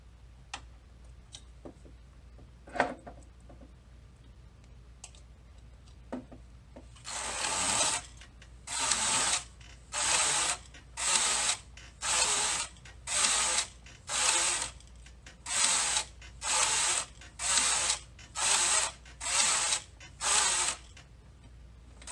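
A domestic knitting machine's carriage running plain rows: about a dozen evenly spaced, close mechanical swishes with clicking, each a steady stroke back and forth after a few faint ticks, with no talk.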